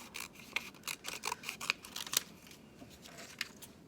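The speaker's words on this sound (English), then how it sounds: "Go really slowly and have those scissors taking little tiny bites" Scissors make a series of small, crisp snips through paper, quick irregular cuts close by, with short pauses between bursts.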